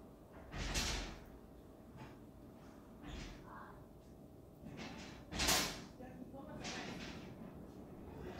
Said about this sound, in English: Well, they're just gonna slam that door over and over again.